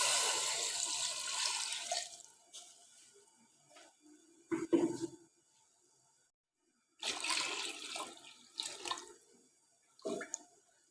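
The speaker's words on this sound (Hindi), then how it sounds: "हम इतना पानी शामिल करेंगे" Water pours into a pot of browned mutton for a mutton yakhni soup, a close splashing gush in two main bursts separated by quieter pauses, with no talking.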